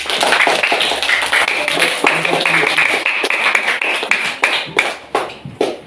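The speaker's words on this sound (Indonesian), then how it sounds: "Tepuk tangan untuk kelompok 4" Classroom students clap for group 4 in a lively burst of hand claps that thins out into a few scattered, distinct claps, with voices chattering alongside.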